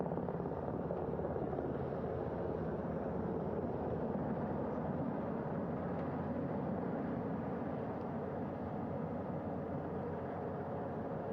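A steady, loud rotor roar with a broad rumbling wash holds constant throughout, like a helicopter close by descending onto a ship's flight deck in the Pacific.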